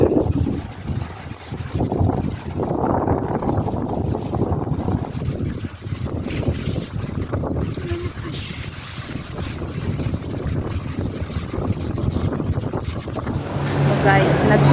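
Strong, steady wind buffets the microphone aboard a boat travelling through a storm, a continuous loud roar with water and wave noise beneath it throughout.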